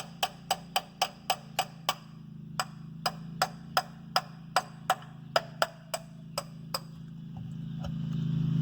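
A metal socket used as a hammer taps on an NV4500 transmission part, a run of about twenty sharp metallic clinks in a quick, slightly uneven rhythm, close and distinct over a low hum.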